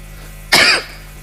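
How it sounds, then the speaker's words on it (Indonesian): A single short, sharp cough close to the microphone, loud and abrupt against a quiet room during a religious lecture. "Batuk."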